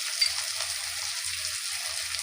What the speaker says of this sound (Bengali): এর মধ্যে একে একে আমি দিয়ে দেব আদা রসুনের পেস্ট